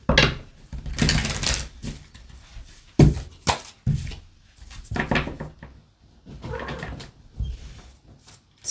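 Tarot cards are shuffled awkwardly in uneven bursts of riffling and slapping, close and moderately loud, with short pauses between handfuls.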